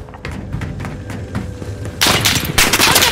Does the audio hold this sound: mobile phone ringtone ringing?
no